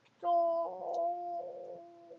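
A chicken clucks in a single sustained, tonal call lasting about two seconds, close and clear with no talking over it.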